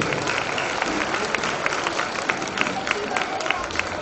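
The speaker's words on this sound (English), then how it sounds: "Can we clap for them?" Audience applause at a children's Bal Mela 2020 program, a steady broadband patter of many hands clapping throughout, fairly loud and continuous.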